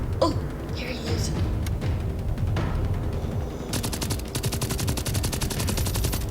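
Rapid, continuous gunfire with normal bullets in the Generation Zero video game, dense automatic bursts that are loud and close, later joined by a fast metallic rattling.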